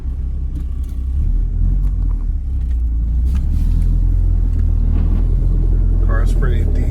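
A 2001 Mitsubishi Mirage on the road with a transmission that whines like straight-cut gears, heard from inside as a steady, loud low engine and road rumble that holds throughout.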